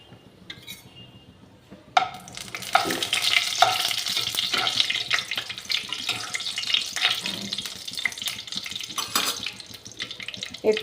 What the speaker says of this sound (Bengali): আমি কড়াইতে তেজপাতা দিয়ে দিলাম।